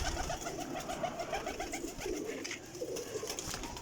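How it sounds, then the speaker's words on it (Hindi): Breeder female pigeons at a loft in Jhelum coo repeatedly in soft, rolling phrases. Several birds overlap at a moderate distance throughout, with no speech. "बड़े अच्छे कबूतर ला रहे हैं"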